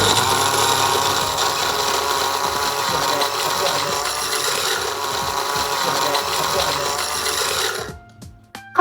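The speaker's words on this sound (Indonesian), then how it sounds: "Nyalakan kembali grinder, tekan reset switch secara manual, lalu grind kopi untuk membersihkan sisa bubuk." A GR03 commercial coffee grinder with 64mm titanium burrs grinding coffee, a loud continuous whirring drone that stops abruptly near the end, leaving a brief quiet clatter.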